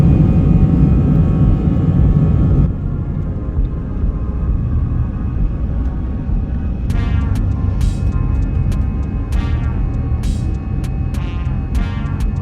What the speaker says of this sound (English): without further ado, here's the takeoff